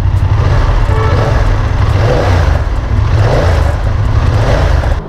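Exhaust of a BMW F900R motorcycle on a test ride, a steady, loud low drone with slight surges, heard close and unbroken with no talk over it.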